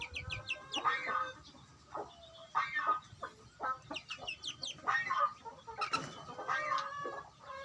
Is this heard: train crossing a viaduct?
no